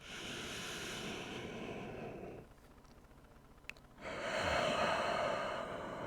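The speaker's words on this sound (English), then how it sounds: "As you're breathing in really deeply" Deep breathing during a yoga practice: a long, loud airy inhale, a quieter pause, then a strong rushing exhale, close to the microphone with no talk.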